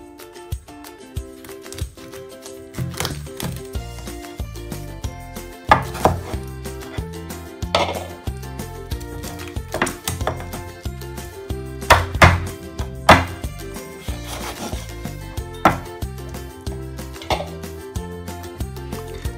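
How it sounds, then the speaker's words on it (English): A knife chops through chicken carcasses on a cutting board in sharp, irregular strikes, some heavy thuds and lighter taps, close up over soft background music. "cut the carcasses into parts"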